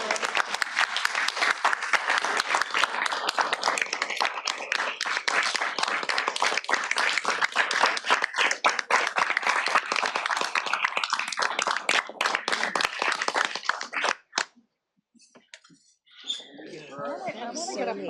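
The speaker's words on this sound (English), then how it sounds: "round of applause" A room applauds staff at a CalSTRS board meeting with a dense round of clapping that thins into scattered claps and stops near the end, followed by a few quiet voices and movement.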